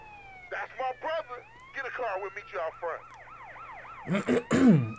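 A wailing fire truck siren in GTA San Andreas rising and falling in repeated sweeps, with a few short tonal bursts before it and a louder blast at the end.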